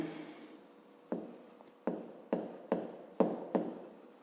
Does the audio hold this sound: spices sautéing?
no